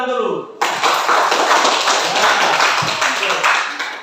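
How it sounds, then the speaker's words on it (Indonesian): Applause in a classroom bursts out after a short spoken line, dense hand clapping from a group of students filling the rest of the moment loudly and evenly. "Silakan tepuk tangan dulu."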